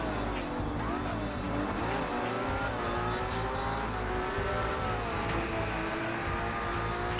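A Lamborghini race car in a racing video game screams through its gears, the engine pitch rising and falling continuously with brief tire squeals, loud and close throughout.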